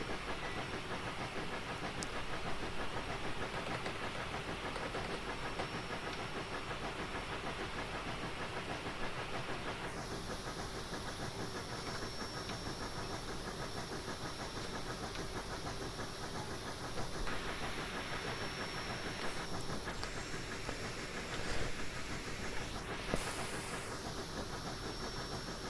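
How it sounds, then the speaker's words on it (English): Live steam injectors on an AT&SF Northern steam locomotive in Train Simulator Classic give a steady, loud broadband hiss while climbing a grade, with continuous locomotive rumble beneath and shifts in the hiss tone partway through, no talk. "Live steam injectors."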